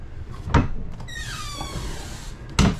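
A door inside a 2024 Forest River travel trailer swings open and knocks against a chair, producing two solid thumps with a short creak between them.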